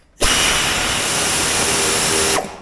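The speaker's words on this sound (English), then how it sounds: "so maybe I need to just drill into that spot without the thing in there" A power drill bores into a Can-Am Commander dash for an electronic dash holder install, one loud continuous whirring burst of about two seconds starting and stopping abruptly, close up with no talk.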